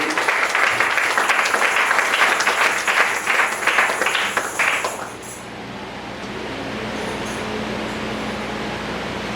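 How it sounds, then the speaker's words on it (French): A church congregation claps and cheers loudly for about five seconds, then the applause drops off into a steady low room hum. "Est-ce que tu peux applaudir ton Dieu là où tu es bien aimé?"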